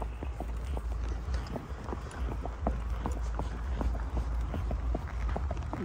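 A horse on a solo night ride clip-clops at a steady walking rhythm, hooves striking evenly close by over a low constant rumble.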